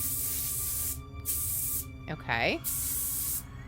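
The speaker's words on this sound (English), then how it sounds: "Let's put the beard on and spray paint it." Spray painting a mannequin's beard in the video game True Fear: Forsaken Souls, heard as several loud bursts of aerosol hiss separated by short pauses over a droning background hum, with a brief voice between sprays.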